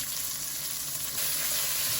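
Six slices of bacon fry in a pan, a steady close sizzle and crackle that swells slightly partway through, with no talking.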